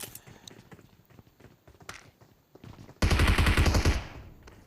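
Gunfire in the Zula video game: scattered light shots and footsteps early on, then a loud, sustained burst of rapid automatic fire lasting over a second.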